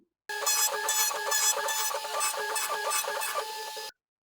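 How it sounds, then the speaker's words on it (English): A CNC router makes a finish pass on a guitar headstock with a 3/8 downcut cutter, giving a steady close mechanical whine that pulses rhythmically at each pass, then stops sharply. "I'm just going to do a little finish pass with the 3/8 downcut cutter."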